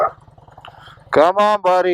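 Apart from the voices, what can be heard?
dog growling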